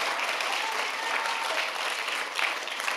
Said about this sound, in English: So we should all give her a big round of applause.